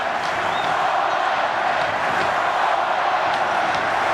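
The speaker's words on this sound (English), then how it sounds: "Good to hear some vocal support from the Auckland crowd" Auckland rugby supporters at the 1998 Super 12 final between the Blues and Crusaders roar steadily from a packed stadium, a continuous wash of distant crowd noise and cheering with no break.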